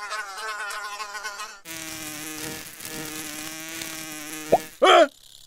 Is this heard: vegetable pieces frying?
no